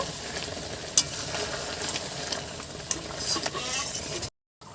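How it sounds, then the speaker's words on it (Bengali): Ash gourd curry is stirred in a pan, a soft steady sizzle with scattered scrapes and a couple of sharper clicks, fairly quiet and close, ending in a sudden cut to silence. "একটু নেড়ে দেব।"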